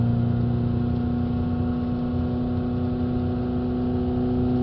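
Ford Transit Connect 1.5 engine held at a steady 3000 RPM, a constant droning hum with a strong tonal whine that stays even and unchanging throughout, close and loud, with no talking.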